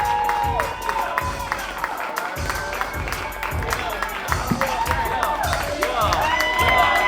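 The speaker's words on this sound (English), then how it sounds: "Round of hand applause, y'all." An excited crowd at a St. Louis basketball event claps in a steady rhythmic beat while cheering and shouting, loud and continuous, with raised voices and whoops over the pulsing claps.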